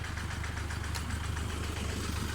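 A Toyota Vigo pickup engine runs steadily to pump water into a rice field, a constant low rumbling drone close by with no pauses.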